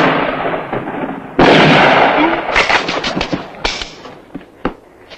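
Gunfire rings out in a 1971 western film shootout: a burst of loud, sharp gunshots, several overlapping at first, then single reports spaced further apart and fading, all near and without talk.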